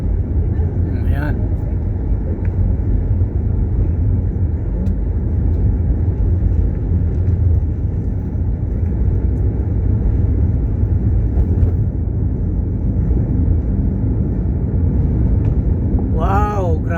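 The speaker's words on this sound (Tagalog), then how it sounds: "Grabe ang traffic oh." Heavy road traffic in Dasmariñas makes a dense, steady roar of engines that never lets up, with voices mixed in and a brief rising and falling tone near the end.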